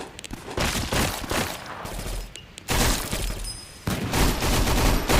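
Rapid bursts of gunfire in a Roblox monster-defense game, cracking shots firing in quick volleys with brief pauses between them, loud and close.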